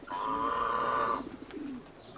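Ornamental pigeons coo in a breeding loft, one long, close, throaty coo followed by softer, shorter murmurs from the birds.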